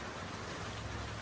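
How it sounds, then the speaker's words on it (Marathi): Heavy rain pouring down during an outing on a new scooter, a loud continuous wash of sound, close and unbroken. "आणि आता निघत होतं तेव्हाच पाऊस आला."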